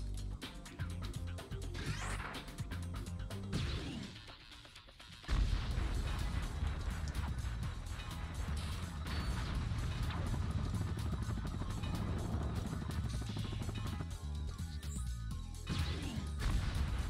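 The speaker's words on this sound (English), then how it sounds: "You gotta wonder where those random explosions are coming from." Loud, dense booming and crashing explosions in Ratchet & Clank roll on continuously, with a brief quieter gap before a heavy burst resumes and sustains.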